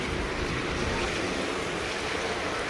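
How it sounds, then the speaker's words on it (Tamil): Waterfall streams pour beside a mountain road, a continuous broad rushing wash of water, fairly close and even, with some wind buffeting mixed in. "ஒவ்வொரு பக்கமும் ஊற்று பாருங்கள், அருவி தான்"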